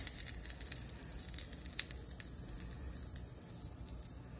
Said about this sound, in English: let me see what's going on with this sizzling over here.